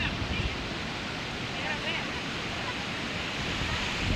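Sea wind and waves rush over a coastline in a continuous, broadband wash, with wind buffeting the microphone throughout and no voices.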